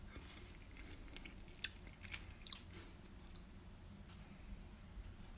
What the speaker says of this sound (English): I'm going to taste the rice.